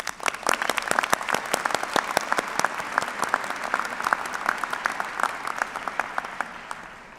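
Sustained audience applause at a University of Michigan-Dearborn fall commencement ceremony, dense steady clapping from a large crowd that fades slightly toward the end.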